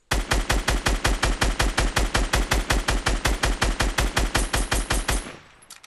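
Rapid automatic gunfire from a Fortnite battle royale match, roughly two dozen evenly spaced loud shots in a steady burst that stops abruptly near the end, leaving a short fading tail.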